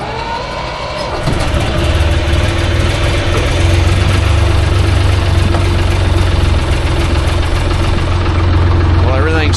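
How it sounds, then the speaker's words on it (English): A tractor engine on a soybean farm cranks over and catches, then settles into a loud, steady, rumbling idle that runs on without a break. "we'll warm up the tractor and get started"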